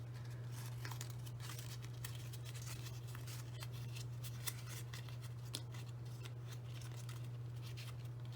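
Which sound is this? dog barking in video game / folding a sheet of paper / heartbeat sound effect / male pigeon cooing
folding a sheet of paper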